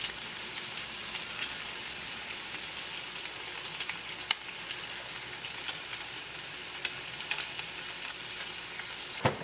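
Sausage and bacon fry in a pan with a constant dense crackling sizzle, close and even, punctuated by a few sharp pops and spits.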